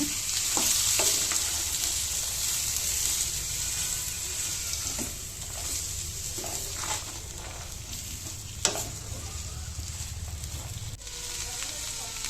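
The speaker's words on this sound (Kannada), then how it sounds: "ಈಗ ಚೆನ್ನಾಗಿ ತಿರುಗಬೇಕು" Vegetable palya frying in a pan while being stirred gives a steady sizzle, with intermittent scraping and clinking from the spoon and occasional louder knocks, and a voice speaking faintly now and then underneath.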